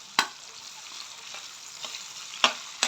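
Chopped tomato sizzling with bitter gourd in a hot pan, a steady crackling fry broken by several sharp scraping stirs of a utensil.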